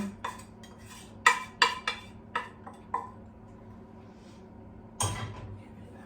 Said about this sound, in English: we take our melted butter and our bowl with sugar and we mix the 2 together